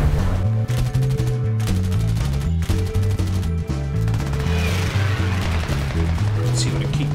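Fighter plane guns firing in a combat flight video game, rapid machine-gun bursts rattling in quick repeated volleys over a steady engine drone, loud and close, with a player talking at times.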